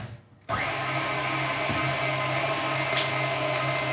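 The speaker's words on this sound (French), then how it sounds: "Et je vais fouetter." An electric whisk beats four eggs with a pinch of salt and sugar for an apple cake, starting abruptly after a brief quiet moment and then whirring loudly and steadily at close range.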